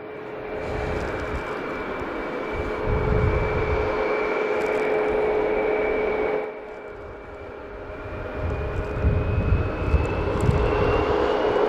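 An Alaska Airlines jet takes off at night from Logan Airport, its engines a loud, sustained roar with a steady whine that swells and fades slightly over about twelve seconds, heard from a spotting distance.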